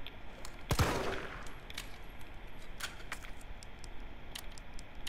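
Shotgun fire in the Resident Evil 3 video game, a single sharp blast near the start followed by fainter clicks and shorter reports against quiet game ambience.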